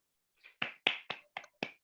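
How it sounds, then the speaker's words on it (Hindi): Sparse, separate hand claps, about seven sharp strikes in an uneven rhythm, fairly quiet and close, from an audience at a training session in a seminar hall, with no voices over them. "दोस्तों एक जोरदार तालियां"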